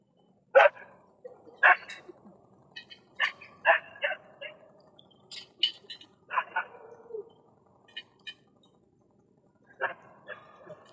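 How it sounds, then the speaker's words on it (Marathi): Dogs bark in scattered bursts, some single sharp barks and some short runs, at moderate distance against a quiet background. "कुत्रे भुंकत आहेत."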